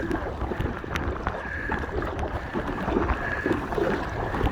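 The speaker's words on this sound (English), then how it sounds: "But the boat itself, as you can probably gather, fairly stiff, bouncing around quite well" An Aqua Marina Steam 412 inflatable kayak rides choppy water on Loch Lomond, giving a steady wash of slapping water and wind noise that runs throughout without any talk.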